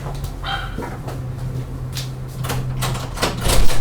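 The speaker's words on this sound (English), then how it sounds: "my damn dog is barking" A dog barks several times at moderate distance amid steady indoor background noise, with clattering and knocking sounds mixed in and growing louder toward the end.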